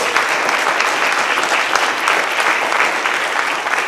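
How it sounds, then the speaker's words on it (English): An audience at a county public schools board meeting applauds, giving a dense, even round of clapping that holds steady and fairly loud throughout with no talk over it. "can we give David a round of applause in his absence"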